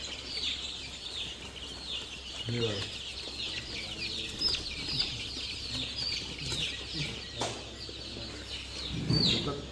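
Free-range desi chickens at a poultry farm stocking about 3,000 birds cluck and call in a scattered, busy flock, with occasional wing flaps, while someone talks over them.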